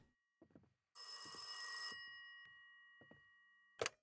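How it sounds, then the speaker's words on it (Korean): A telephone bell rings in a dark horror game, Tales of the Forgotten, with one long loud ring burst over otherwise quiet surroundings and a few faint knocks and clicks around it. "전화 오는데?"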